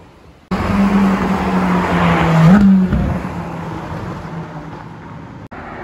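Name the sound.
car passing by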